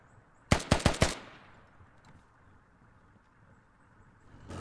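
A quick burst of four sharp automatic gunshots in the military shooter game Squad, loud and close, then a fading echo and quiet ambient noise.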